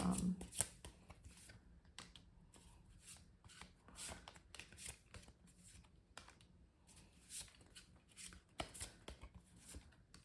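Tarot cards being shuffled by hand: soft, close riffling and flicking in quick irregular bursts over about ten seconds, fairly quiet, with no voice.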